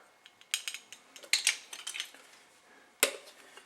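A spoon clinks against a mug while mixing coffee cake batter of flour, applesauce and baking powder: quick, close, irregular metallic taps and scrapes in bursts, with a sharper clink near the end.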